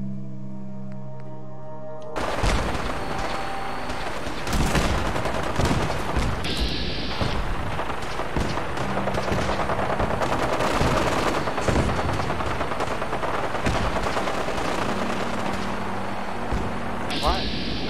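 Gauss rifle gunfire in the video game Fallout 4, dense and loud bursts of shooting that start abruptly after a quiet opening and keep going in overlapping volleys, with a voice briefly audible underneath.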